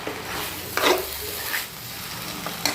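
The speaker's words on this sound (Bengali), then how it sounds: "আলু টালু দিয়ে একবারে একটু কষাচ্ছি।" Banana flower curry with potatoes, and prawns, is stirred and sautéed in a pan. A continuous close sizzle runs throughout, with a few louder scraping stirs.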